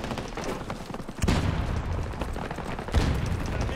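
Desert Eagle pistol fire in a video game comes as two loud, booming shots about two seconds apart over a dense background of distant gunfire and battle noise.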